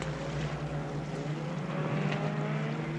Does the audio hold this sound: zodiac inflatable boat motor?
yes